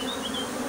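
Honey bees buzz around an opened beehive during a spring inspection after a cold snap, a close, steady drone with several overlapping wing tones and no talk.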